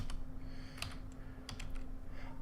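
Quick run of computer keyboard keystrokes, typed during a Minecraft Project Ozone 2 modded session; a few crisp, close clicks spaced irregularly over a low steady hum, with no voice.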